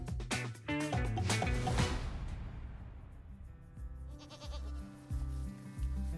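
Goats bleat on a dairy goat farm in Dordogne, several overlapping wavering cries close by in the first two seconds, then fainter distant bleats over a low hum.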